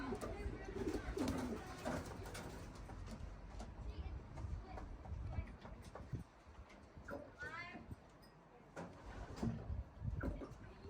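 Racing pigeons coo at their loft after a tough 100-mile young bird race, soft repeated throaty calls close by, with someone talking intermittently over them and some rustling.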